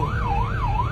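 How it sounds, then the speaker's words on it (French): Wailing ambulance siren on a road, its pitch sweeping smoothly up and down in a steady cycle, loud and close over low traffic rumble with no talking. "Ambulance,"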